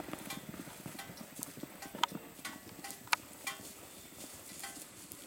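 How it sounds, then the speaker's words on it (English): Horses' hooves clip-clop on a hard surface at night, an irregular series of sharp clicks with a few louder strikes, fairly quiet and alone. "Beautiful horses."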